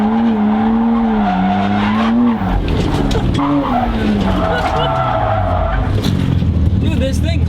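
A BMW E92 drift car slides sideways at a drift event, tires skidding and squealing in long, loud wavering tones over a roaring engine that swells and falls for several seconds; a voice briefly talks in the middle.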